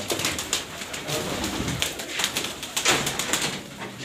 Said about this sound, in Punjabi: ਇਹ ਮਾਸ਼ਾਅੱਲਾ ਇਹਨਾਂ ਦੇ ਵੱਡੇ ਬਰੀਡਰ ਕਬੂਤਰ